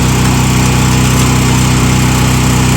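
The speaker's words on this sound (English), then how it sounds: "Now that I got it started, the multi-tool will help me cut through all the weight." An oscillating multi-tool cuts through a shed wall to open gable vents. It gives a loud, steady, high buzzing drone with constant vibration throughout and no talking.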